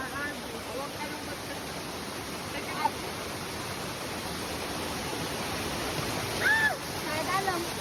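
Ar-arbis Falls, a waterfall, pours in a steady broadband rush that stays constant throughout, with people talking faintly under the water noise.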